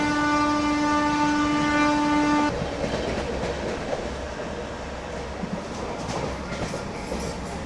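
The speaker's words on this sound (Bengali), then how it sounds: "আমার বাড়ির কাছের ট্রেন চলে যাচ্ছে" A loud train horn blasts for a couple of seconds as a local train passes close by near a home in Bengal, then the rumble and clatter of the rail cars continue steadily, with no voices.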